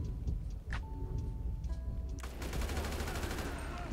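Gunfire in GTA V, a few sharp shots early on, then a dense, continuous rattle of rapid shooting from about two seconds onward, loud and close, over a steady game-engine background hum.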